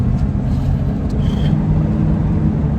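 A car driven on a bumpy road by a 20-year-old driver, heard from inside as a loud, steady low engine and road rumble throughout, with faint rattles and no talking.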